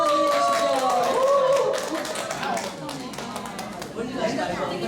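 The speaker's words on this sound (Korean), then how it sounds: "뜨거운 박수로 환영해 주십시오." A church audience welcomes a teacher with applause: a crowd claps in a lively patter that fades slightly, while people talk over it.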